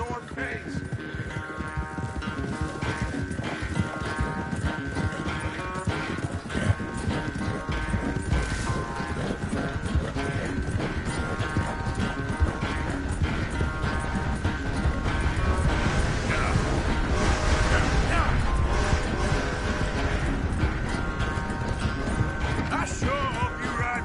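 Horse hooves clip-clop steadily in a PS4 video game, a continuous mechanical, rattling clatter under music and game ambience throughout.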